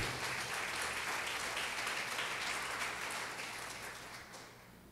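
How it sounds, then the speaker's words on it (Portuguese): A church congregation bursts into sustained, dense applause that fills the hall and then gradually fades toward the end. "Aplauda o Senhor Jesus"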